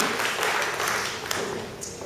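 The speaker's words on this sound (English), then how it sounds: "A round of applause, please, for the panel." An audience at a book launch applauds a panel, producing a dense, steady wash of clapping from many hands in a hall that gradually tapers off.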